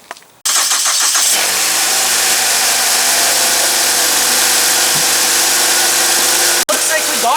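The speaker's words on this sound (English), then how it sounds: "we've got the car started" A Ford Fusion engine cranks briefly and catches after a battery replacement, then settles into a loud, steady idle with a broadband rumbling roar that holds for several seconds, with a short break near the end.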